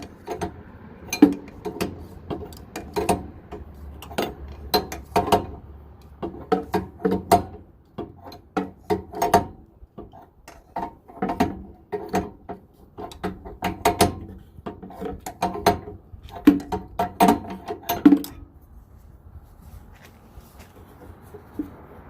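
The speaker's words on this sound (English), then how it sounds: "I now have the propane fitting sufficiently loose that when I pull on the other end, it will come off" A 13/16 wrench works loose the propane fitting on an RV furnace, giving repeated close metallic clicks and clanks in irregular bursts, then quieter near the end.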